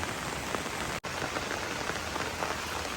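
Heavy monsoon rain falling steadily, a dense, loud, continuous hiss of drops hitting the ground and surfaces, with no voices.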